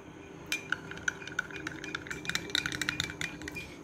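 A spoon stirs aloe vera juice with lemon, honey and water in a glass, giving repeated close metallic clinks and scrapes. The clinks come in irregular bursts that quicken toward the end.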